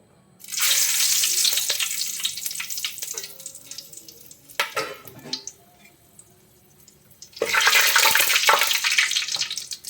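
Cardamom, cloves and cinnamon hit hot coconut oil for a mutton kurma, bursting into a loud hissing sizzle, fading with some scraping and clinks, then a second strong sizzle swells up near the end.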